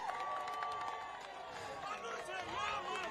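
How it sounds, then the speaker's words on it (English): A crowd at an official commissioning event in Ibadan, Oyo State, claps and cheers for the governor, with a busy wash of applause and voices mixed beneath a loud, reverberant hall ambience. "Please keep clapping till my governor gets to his podium"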